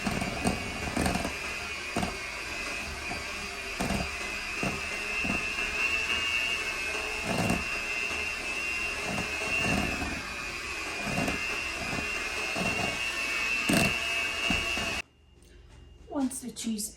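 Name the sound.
mixer beating cheese with powdered sugar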